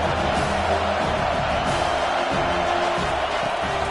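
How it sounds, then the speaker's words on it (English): A home stadium crowd at a college football game between Nebraska and USC roars steadily and loudly throughout, a dense continuous wash of cheering with no breaks. "how nice is it to have the home crowd going absolutely bananas?"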